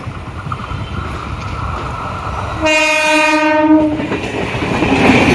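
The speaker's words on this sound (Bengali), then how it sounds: "এদিকে গেট পড়েছে আর ট্রেনটা বেরিয়ে গেল" A train rumbles and clatters past a level crossing nearby and sounds a loud, sustained horn midway. The rolling noise continues after the horn stops.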